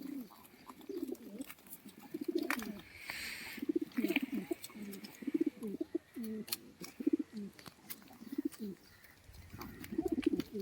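Pigeons held in a basket coo in soft, repeated throaty bursts, close by and fairly quiet, with a few short chirps and faint rustling between the calls.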